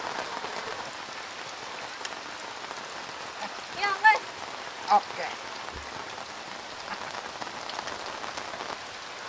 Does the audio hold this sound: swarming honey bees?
no